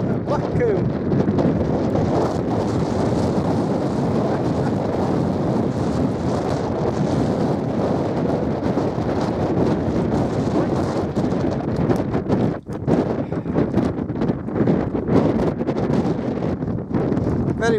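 Strong wind roars without a break across the open summit of Black Combe in South West Cumbria, battering the microphone with loud, gusty buffeting for the whole stretch.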